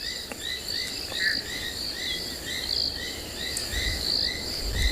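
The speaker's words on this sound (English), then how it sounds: "both southern foam-nest frogs and sand frogs calling." Southern foam-nest frogs and sand frogs call at a sunrise safari, with a continuous chorus of repeated rising chirps layered with insect-like trilling, steady and moderately close, and a low rumble near the end; no one speaks.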